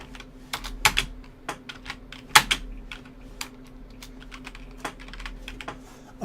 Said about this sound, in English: we can type in our own text